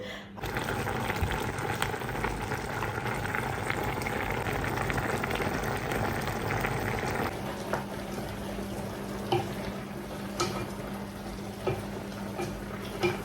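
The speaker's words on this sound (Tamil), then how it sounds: "இப்போ இந்த தண்ணியிலேயே இந்த ரச்சிகளை இந்த தண்ணியிலேயே இப்போ அவியட்டும்" A pot of water with chicken meat bubbles at a steady boil for several seconds, then the sound drops to quieter simmering with a low hum and occasional clicks.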